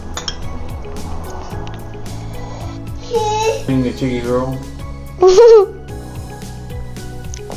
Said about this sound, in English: Pouring some of juice in.